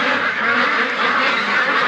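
Ducks for sale at a market, quacking loudly and continuously at close range with no talk over them.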